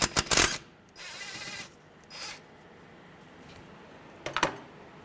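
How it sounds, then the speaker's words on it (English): Ratchet wrench backing out a 10mm bolt holding the speed sensor in the steering knuckle of a 2003-2011 Honda Element: short bursts of rapid clicking, loud at the start and again near the end, with quieter ratcheting between and no talking. "So to remove our speed sensor out of our knuckle, we have a 10mm bolt here."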